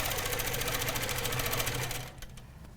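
A sewing machine runs steadily at close range, stitching a quilt border made with a spinning-wheel ruler, its rapid needle rhythm holding for about two seconds before cutting off, followed by a few faint clicks.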